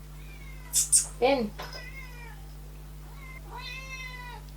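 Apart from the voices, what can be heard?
cat meowing to be let in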